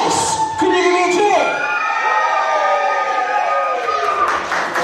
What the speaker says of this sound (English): Ladies and gents, if you voted for Jess, can you give me a cheer?